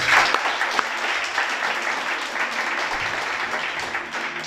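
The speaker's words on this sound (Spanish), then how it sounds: "Un aplauso al Creador." An audience applauds during a Shabbat sermon, a steady wash of clapping from a congregation that holds at an even level throughout.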